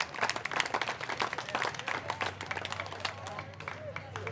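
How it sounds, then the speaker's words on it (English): Crowd at a Legion baseball doubleheader applauding the home plate umpire, scattered claps rising and thinning across the stands, with an announcer talking over them. "a round of applause for home plate umpire Matt Clark as he is ready to go"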